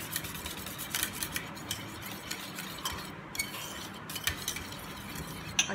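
A spoon stirs yogurt raita with added milk in a bowl, giving faint, irregular clinks and soft scraping taps against the dish, close and quiet with no voices.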